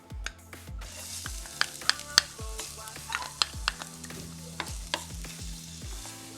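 Garlic and ginger fry in hot oil with a soft, continuous sizzle, broken by repeated sharp clacks and scrapes of a utensil against the pan, close and fairly quiet, with no one speaking.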